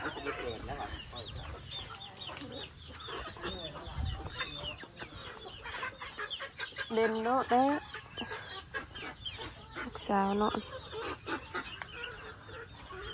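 Chickens cluck and murmur nearby at a rural farm home, with repeated soft clucks and a couple of louder rising calls over a steady high insect-like tone, while people speak quietly in Thai.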